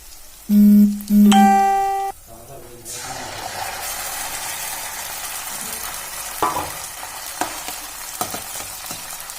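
Spice tempering sizzles in a pan while palak paneer is cooked, a steady frying hiss with occasional clinks and stirring scrapes, preceded by two loud electronic beeps.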